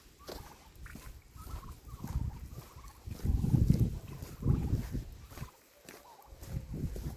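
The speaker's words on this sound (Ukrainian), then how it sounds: "Це в неї індики" Turkeys roam loose in a farmyard, gobbling in several bursts, close and fairly loud, with some rustle and movement noise between calls.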